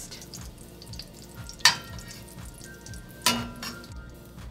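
Beef pieces for beef bourguignon frying in a pot with a soft sizzle, broken by two sharp metallic clinks from a utensil against the pot. Close and fairly quiet.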